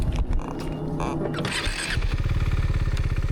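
A Ducati V2 motorcycle engine running nearby, rough sputtering at first, then settling into a loud, steady rhythmic idle chug.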